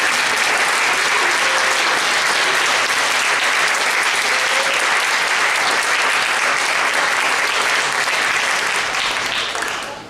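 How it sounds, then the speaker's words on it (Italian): Crowd applause at an award ceremony as a plaque is presented, loud continuous clapping from a full hall that holds steady for about ten seconds before easing slightly at the end. "Vai, applauso,"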